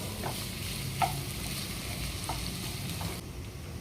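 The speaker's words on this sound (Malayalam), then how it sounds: "നമുക്കിത് രണ്ട് മിനിറ്റ് ഫ്രൈ ചെയ്യാനിടാം" Chopped onion frying in a pan gives a steady sizzle with faint stirring clicks, one sharper tap near the start, and no voices.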